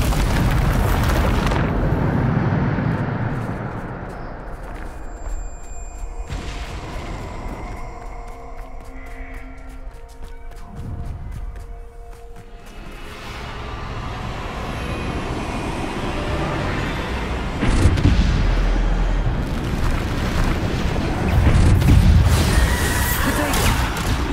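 Spell blasts in the video game Hogwarts Legacy: heavy booming explosions and crackling rumbles break out between quieter stretches of tonal game effects, with louder bursts near the end.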